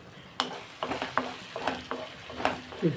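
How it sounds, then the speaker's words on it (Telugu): A spoon stirs pieces of raw mango, drumstick and egg curry in a sizzling pan, with soft scraping strokes and clinks repeating over a steady low fry, close and fairly quiet. "ముక్కలు ఒకసారి కలుపుకుందామండి"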